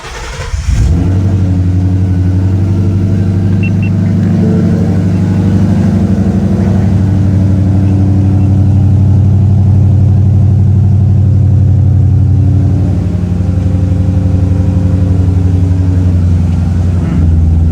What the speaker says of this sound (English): Alright guys, cold start on E85.